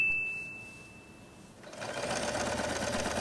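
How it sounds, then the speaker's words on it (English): A sewing machine starts up after a brief high beep and runs a straight seam on fabric, a close, steady mechanical whir that continues to the end. "With the wrong sides together, fold in half and sew a straight line."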